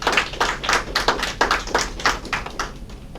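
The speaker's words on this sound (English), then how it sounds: "give him a round of applause for that" Audience applause at a Saint Lucia Bureau of Standards World Standards Day event, a brisk run of close hand claps with a steady uneven rhythm, fairly loud and without talk.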